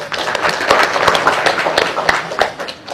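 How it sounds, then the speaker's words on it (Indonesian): Applause from an audience at an Indonesian patriotic gathering, a dense steady patter of clapping lasting about three seconds that thins slightly toward the end, mixed with crowd noise. "Tepuk tangan semuanya."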